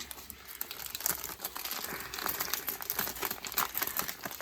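Serving paper for Japanese mountain village food is handled close by, giving soft, continuous crinkling and crackling at low volume with no talking.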